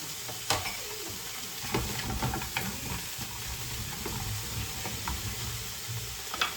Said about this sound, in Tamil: இப்போ நாங்கள் இதுக்குள்ள வெங்காயத்தை போட்டு வதக்குவோம் தாளிப்போம்